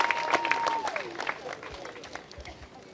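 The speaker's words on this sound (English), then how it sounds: "Clap it up for him one more time, y'all" An audience claps at an outdoor statue ceremony honoring Dawn Staley, a broad wash of applause with cheering and a whistle-like tone at the start, fading somewhat toward the end.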